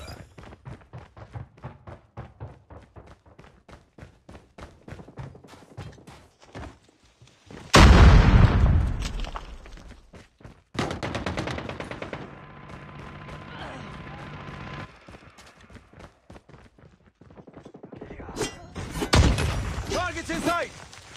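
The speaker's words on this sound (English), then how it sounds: "Hostile sentry gun in your AO." Rapid bursts of automatic gunfire from a sentry gun in Call of Duty Mobile, with a loud explosion partway through and continued shots and impacts, mixed with other game combat sounds and voices.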